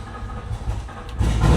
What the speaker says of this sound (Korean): 시동 한번 걸어볼게요.